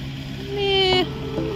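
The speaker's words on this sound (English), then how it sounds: "Also, the noise from the trucks." Trucks passing near a mountain viewpoint: a droning engine hum with a whining tone that swells for a moment, then drops back to a steady background rumble.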